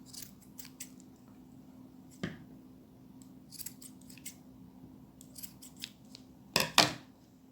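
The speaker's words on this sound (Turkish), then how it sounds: "Şimdi arkadaşlar şöyle kenarlarını şöyle kesiyorum." Scissors trimming the edges of a handmade craft ornament, a series of crisp, close snips spread across the stretch, with the loudest pair of cuts near the end against a quiet background.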